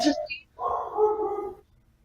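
A dog gives a short bark or yelp indoors, followed by a longer whining, voiced sound, all fairly quiet and close, over about two seconds.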